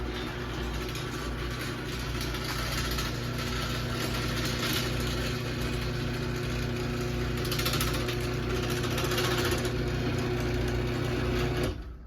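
Wayne Dalton WD320 garage door opener raising the door, a steady loud mechanical motor whir with rattling drive noise running continuously for about twelve seconds, no talk.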